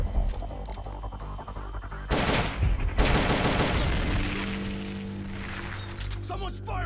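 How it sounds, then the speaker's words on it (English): Rapid gunfire from Metal Gear Solid: Peace Walker, with loud bursts of automatic shots and impacts clustered in the middle, followed by a softer tail of game tones. "Someone's firing at us!"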